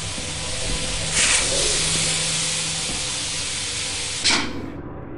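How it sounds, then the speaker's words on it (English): Steam hisses steadily through a steam room in the video game Lethal Company, a loud, continuous broadband rush with two sharper bursts near the start and end and no voices. "Oh no, it's a steam room."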